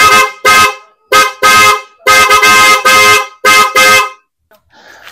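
Two sets of PIAA Oto-style car horns sound together in a loud, close burst pattern of short and longer honks spread over about four seconds, then stop, leaving faint background noise.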